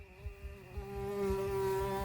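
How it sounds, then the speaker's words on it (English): A bee buzzes around in a children's story, a thin steady droning whine that wavers in pitch and grows slightly louder, with no talking. "The bee landed on your shoulder!"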